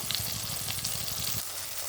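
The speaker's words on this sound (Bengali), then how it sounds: "বেগুন ধনেপাতা দিয়ে বেগুনগুলো সুন্দর করে ভেজে নেবো প্রথমে।" Eggplant slices with coriander fry in hot oil, giving a steady, close sizzle and crackle that runs on without a break and softens slightly near the end.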